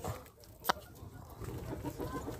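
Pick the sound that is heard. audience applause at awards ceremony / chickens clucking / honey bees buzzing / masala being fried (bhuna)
chickens clucking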